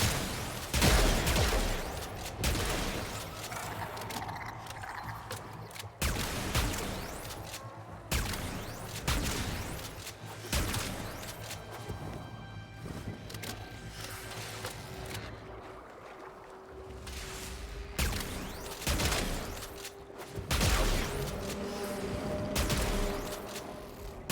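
Weapon fire from Wisp in the shooter game Warframe: loud repeated bursts of shots in clusters, with game ambience and mechanical hum between volleys.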